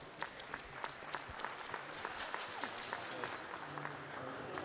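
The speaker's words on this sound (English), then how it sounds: "Let's have a huge round of applause for our gold medalist, Jonathan Fox." Audience at a British swimming championship applauds a gold medalist, a steady, fairly faint patter of many hands clapping from a distance across the pool hall, sustained without a break.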